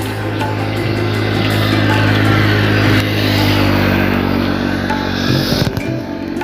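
A motorcycle engine drones loud and close on the Purvanchal Expressway, a steady low rumble with faint traffic noise around it throughout.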